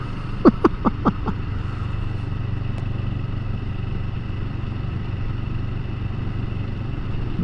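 A 2022 CFMOTO 700 CL-X motorcycle idling: a steady, low, even engine rumble held throughout, with a few brief clicks at the start and no speech.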